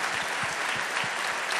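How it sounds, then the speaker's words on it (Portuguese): Audience applause fills a church after a choir cantata, a dense, steady wash of clapping from a crowd that holds at full strength throughout without pause. "Se essas palmas é para esse grupo, está certo."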